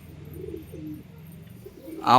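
Domestic pigeons released into the sunshine coo softly in low murmuring phrases, close by and continuous for a couple of seconds, with a louder brief noise at the very end.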